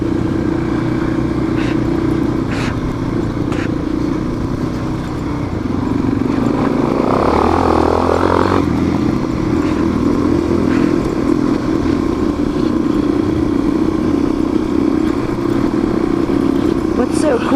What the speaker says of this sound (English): But it's a lot of fun on a dirt bike.